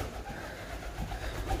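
Pigeons swarm inside an abandoned 1940s asylum in Scotland, a dense, muffled rush of wingbeats and low cooing filling the space, steady and moderately loud throughout.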